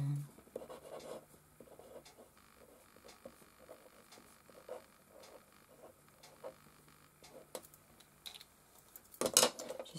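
Soft pen strokes scratch across paper in short, irregular bursts, close and quiet, with a brief louder rustle near the end.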